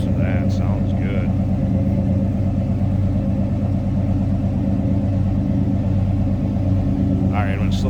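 Engine of a 1966 Dodge Charger with a 5.7L Hemi runs at a steady low rumbling idle, close and constant, with a brief voice over it at the start and end.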